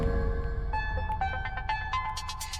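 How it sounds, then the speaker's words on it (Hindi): A melodic electronic phone ringtone chimes in a repeating pattern of bright tones over a low background rumble. "अब इस वक्त इसका कैसे फोन आ गया?"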